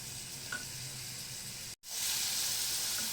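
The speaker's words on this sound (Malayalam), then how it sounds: "ഞാൻ മറന്നൊരു കാര്യമുണ്ട് കേട്ടോ, അതും കൂടി അതിൽ ആഡ് ചെയ്യാൻ പോവാണ്. ഒരു ഉണക്കമുളക്." A dried red chili sizzles in hot oil for beetroot upperi, a steady close hiss that cuts out briefly, then swells louder and brighter as the frying resumes.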